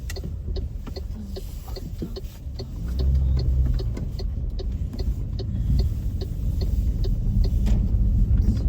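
A car driving along a road in winter, a steady low engine and tyre rumble from inside the cabin with a faint regular ticking on top, the road noise swelling a little partway through.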